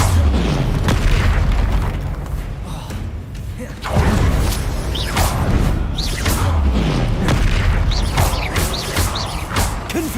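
Confringo blasting spells from Hogwarts Legacy fire repeatedly, loud booming explosions rolling one into the next over a constant dense rumble of game effects and music.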